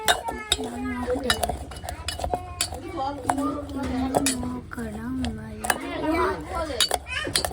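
Close metallic scraping and clinking of a spoon stirring in a cooking pot, repeated sharp knocks against the rim, heard under steady conversation and a voice.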